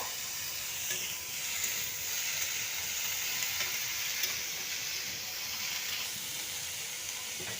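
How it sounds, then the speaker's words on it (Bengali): Cauliflower and potato pieces fry in a pan for a cauliflower curry, giving a steady, fairly loud sizzle and hiss throughout with faint stirring scrapes and no talk. "তো একটু লাল লাল করে ভাজবো।"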